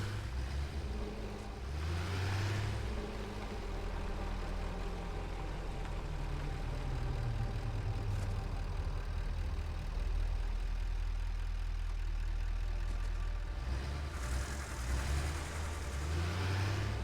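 A truck engine driving in a factory-building video game makes a continuous mid-pitched engine hum that rises and falls over several seconds, with no talking.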